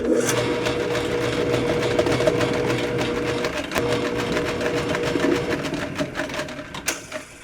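A VEVOR auto-feed drain cleaner auger machine with a 100 ft by 1/2 inch cable runs loud and close, a continuous mechanical whir with rhythmic clicking that roughens near the end.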